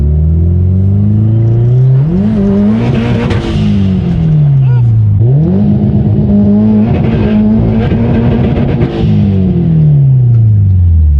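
A built Subaru STI engine revving hard from inside the car, rising and falling repeatedly and holding against the rev limiter, loud and close, with a voice under it.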